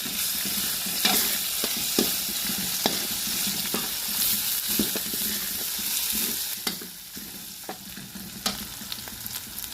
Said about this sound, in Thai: เอากระชายลงไปผัดก่อนนะครับ